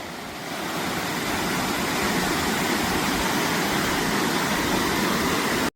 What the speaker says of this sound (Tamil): இது பேர் தான் கிருஷ்ணகிரி ஃபால்ஸ்